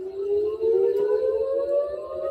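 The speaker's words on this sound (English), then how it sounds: "Ominous sirens sounded periodically into the night" A steady, wailing air raid siren holds a long rising tone, loud and sustained with no voices over it.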